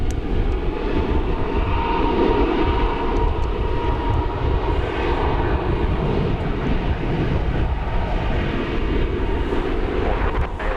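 An airplane at a DFW Airport runway produces a loud, steady jet engine roar that persists throughout with little change, and no one speaks.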